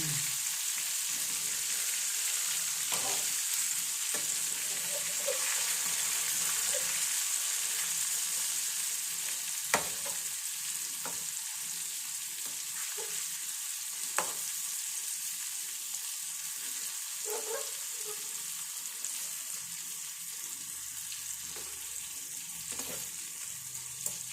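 Fish frying in a pan for a home fish fry, a steady bright sizzle that runs unbroken throughout, with occasional soft clinks and stirring sounds over it and no talking.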